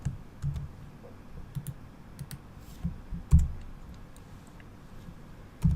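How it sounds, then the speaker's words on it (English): Computer keyboard being typed on at close range, scattered clicks and taps with a few louder key strikes spread unevenly, no talk. "I'm gonna type this command."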